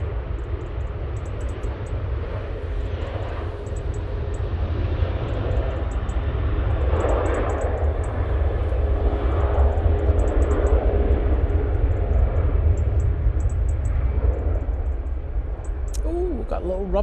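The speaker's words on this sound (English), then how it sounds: "Ryanair 737-800 now on the roll" A Ryanair Boeing 737-800 on its takeoff roll at Manchester Airport, a steady broad jet roar holding at a distance throughout with a brief sharper noise near the end.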